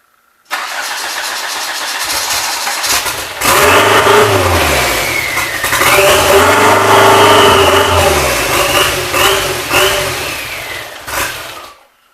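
A Nissan GA16DET engine, just fitted with a new head gasket, cranks and catches, then revs up and down several times in loud, close rising-and-falling sweeps before settling and cutting off.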